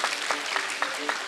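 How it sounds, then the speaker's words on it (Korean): A brief burst of audience clapping sends off a mentor, a pro-gamer guest at a youth talk event, with steady, moderately distant applause. "우리 큰 박수로 멘토님 보내드리죠."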